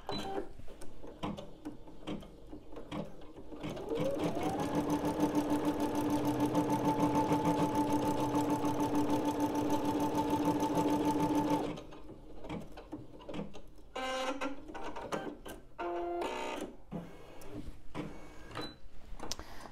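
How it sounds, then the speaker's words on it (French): A SKITCH embroidery machine stitches a keychain, giving a steady, fast mechanical chatter with a sustained whine that runs for several seconds and then stops, followed by quieter handling noises. "Donc, elle va me broder la couleur suivante."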